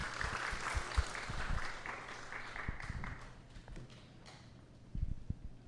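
A church congregation applauds a guest speaker, a burst of clapping that fades out over about three seconds, followed by a few scattered footsteps and knocks in the room.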